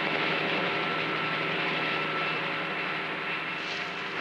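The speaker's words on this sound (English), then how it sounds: "As the spotter plane disappeared" A propeller spotter plane drones steadily at a distance over a mountain wildfire, its engine hum holding level and then fading slightly as it flies away.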